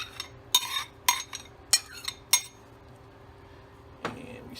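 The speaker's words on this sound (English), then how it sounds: "And we stir those in." Clams being stirred into a pot of clam chowder, giving a handful of sharp clinks and scrapes of a utensil against the pot over a quiet background, then a softer knock near the end.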